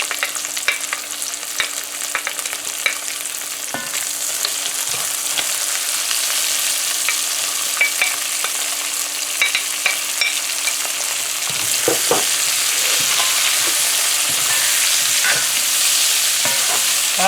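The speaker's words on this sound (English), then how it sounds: "So we also fry the salted fish with the onions, guys, for about 30 seconds, 45 seconds." Salted fish, onions, tomato and scallions fry in a hot pan with garlic and pepper, a loud continuous sizzle under scraping stirring strokes, no talking throughout.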